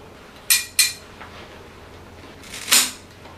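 Two quick sharp snips close together, a pause, then a third louder snip, like pruning shears cutting through a Philodendron Pink Princess branch.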